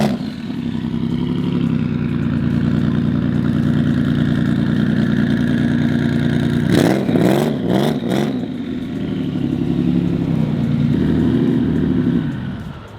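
A Subaru WRX hatchback engine idles with a loud, steady rumble, then snaps through a few sharp revs before settling back to a throbbing idle, heard up close.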